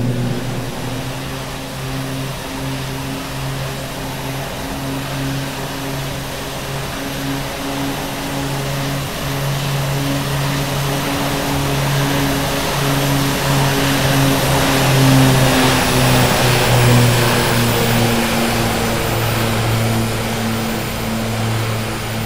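A Beechcraft King Air B200 turboprop in a flight simulator gives a loud, steady propeller drone. Its pitch drifts slightly as the propeller RPM is brought back during the climb, with no talk.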